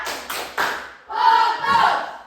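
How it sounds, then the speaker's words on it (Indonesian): Students in a coding and AI training class perform a rhythmic focus clap, with short bursts of group clapping and a spoken chant between and over the claps. "Coba tepuk fokus"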